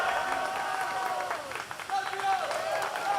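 Spectators at a boys' high school swim meet on senior night cheer and applaud behind the commentators, a busy crowd roar with whistles and shouts.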